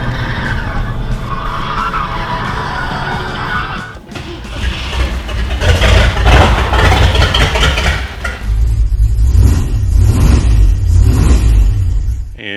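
A car engine and exhaust, which is being fitted with a resonator, run loudly inside a garage, roaring and revving with rough, broadband surges that swell and dip over several seconds.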